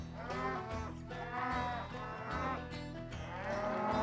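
Cattle being sorted into groups at an outdoor pen, several loud overlapping moos and bellows repeating one after another, close by and with no talk.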